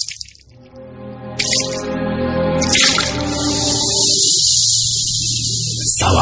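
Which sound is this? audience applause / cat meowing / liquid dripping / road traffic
liquid dripping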